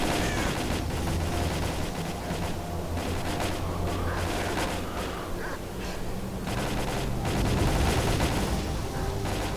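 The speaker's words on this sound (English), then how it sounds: "What is they all shooting at?" Dense gunfire in the video game S.T.A.L.K.E.R.: Call of Pripyat, with continuous bursts and shots overlapping almost without pause, loud and close throughout.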